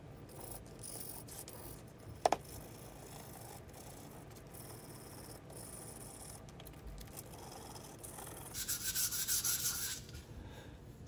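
Ceramic filler on a repaired pottery piece is hand sanded with 220 grit sandpaper, making a quiet, close, steady rubbing scrape with one brief sharp tap and a slightly louder burst of scratching near the end.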